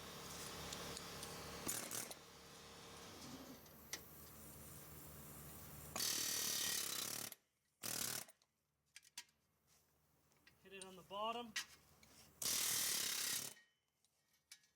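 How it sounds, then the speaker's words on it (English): A pneumatic air hammer knocks out a wheel bearing on a Nissan Xterra 4x4, firing in three loud, rapid bursts with quieter shop noise between and a brief spoken remark. "we're going to do this with the air hammer now"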